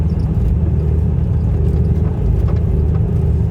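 A skid steer with nearly 2,500 hours on it idles on a farm, its engine a steady, loud low rumble heard close and alone.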